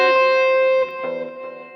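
A distorted electric guitar rings through a sweep-picked arpeggio, a sustained, effects-laden chord tone that decays and then gives way to a few quicker picked notes, brief and with no voices.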